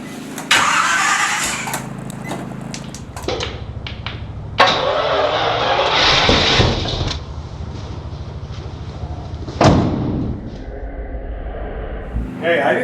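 A 1965 Rambler Marlin engine cranks and fires for its first start, with sputtering bursts, rising revs and a rough uneven idle close by, and people talking over it.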